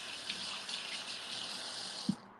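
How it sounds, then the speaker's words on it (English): Hands being washed under a running kitchen tap: a steady, close rush of water flowing into a sink for a couple of seconds, with a small knock near the end before the flow cuts off. "Wash my hands."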